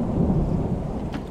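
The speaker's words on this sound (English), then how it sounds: "Ooh, I like that thunder." Rolling thunder booms low and heavy through a rainstorm in XCOM 2: War of the Chosen, a steady loud rumble with rain hissing beneath it and no voices.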